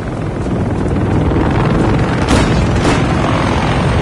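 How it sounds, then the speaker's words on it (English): Helicopters arriving during a Call of Duty campaign mission: a loud, steady, close rotor roar fills the whole stretch, with a couple of brief swells in the middle and no talking. "Helos are dropping more reinforcements."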